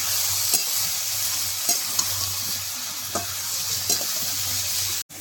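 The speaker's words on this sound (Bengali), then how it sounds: "আর একটু হলুদ গুঁড়ো দিয়ে ভালো করে এঁচোড়টা ভেজে নেবো" Jackfruit frying in oil with salt and turmeric powder, a close, continuous sizzle broken by a few scraping stirs and a sharp knock near the end.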